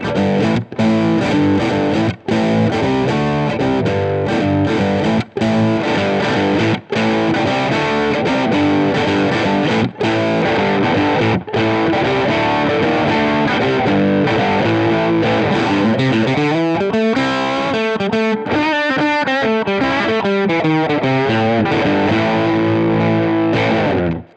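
A loud electric guitar played through an overdrive pedal, thick and saturated, strumming sustained chords with a few brief cuts before a bending, wavering run near the end.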